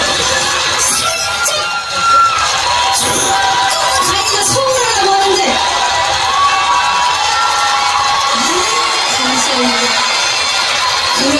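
An audience cheers and shouts continuously at an outdoor concert on the Yonggwolsan sky walk, a loud, dense crowd roar with scattered high whoops and children's voices.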